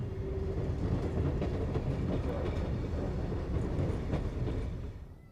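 SNCF multiple unit train in red and cream livery running steadily past at close range, a continuous loud rumble of wheels and rail with faint clatter, fading away at the end.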